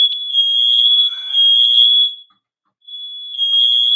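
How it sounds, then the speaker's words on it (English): A smoke alarm, likely with a low battery, blares a shrill, piercing tone in long pulses, pausing briefly before sounding again, loud and close with no voices. "smoke alarms are going off."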